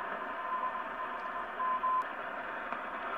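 A weak CW Morse signal plays on a BiTx40 QRP radio with AGC on, its short beeps and longer dashes clearly keyed over a bed of soft, steady band hiss.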